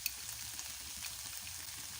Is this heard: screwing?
no